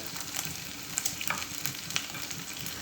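Beef sizzles in a hot pan, with steady close frying crackle and a few sharper pops and stirring scrapes.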